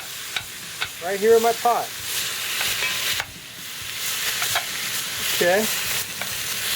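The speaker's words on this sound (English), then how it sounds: "get that meat browned up a little bit" Ground beef browns in a pot, with a steady sizzle and occasional stirring scrapes throughout. Someone speaks briefly over it twice.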